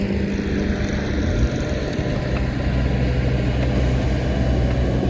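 A Kubota excavator idles nearby during a bucket swap on a French drain job, a low, steady diesel rumble with a faint rise in engine pitch and no talking.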